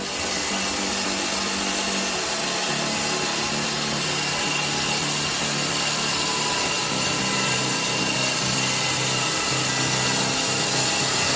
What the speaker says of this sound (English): This band saw glides through wood with smooth, controlled cuts, delivering accuracy on every pass.